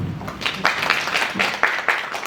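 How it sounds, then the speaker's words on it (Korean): A theatre audience at a musical's curtain call gives scattered applause, a few distinct, evenly spaced claps standing out over a soft background of hands, moderately close. "그럼 다시 한번 박수 부탁드리고요"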